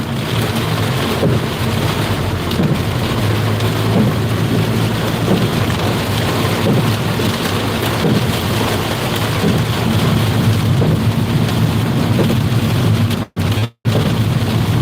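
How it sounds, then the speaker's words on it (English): Heavy thunderstorm with steady loud rain pouring and rolling thunder, a dense continuous roar close by, briefly cutting out near the end. "This is a serious storm right here."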